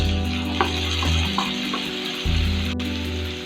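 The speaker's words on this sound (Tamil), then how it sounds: "தக்காளி சேர்த்ததுக்கு அப்புறம் 1 நிமிஷம் நல்லா வதக்கி விட்டுட்டு மூடி வச்சிடலாம்" Halved tomatoes sautéing in oil in a pan for a restaurant-style butter chicken gravy, a steady close sizzle with soft stirring scrapes and a constant low hum in the background.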